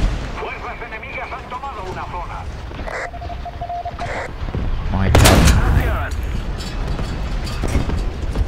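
Gunfire from an enemy tank in the War Thunder video game booms in, with a heavy blast standing out midway among rumbling engine noise and other shots while someone talks over it.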